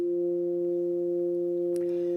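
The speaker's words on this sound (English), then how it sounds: "So at first we kind of mostly get this sine wave sound." A steady, loud synthesizer tone from a two-operator FM patch, mostly a pure sine-like hum that holds evenly, with a faint brief click near the end.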